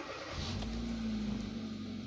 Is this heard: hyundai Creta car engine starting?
yes